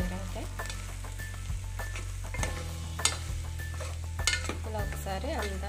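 Chili powder and chopped onions sizzle steadily in a hot pan while a spoon scrapes and stirs, with occasional clinks against the metal and a soft voice now and then.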